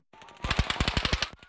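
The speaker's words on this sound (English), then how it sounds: "When gunfire erupted in Las Vegas" Rapid automatic gunfire from the Las Vegas shooting, a fast even burst of about a dozen shots heard from a distance with no voices.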